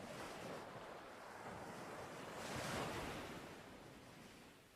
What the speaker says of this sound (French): les vagues de la mer chantent comme au premier jour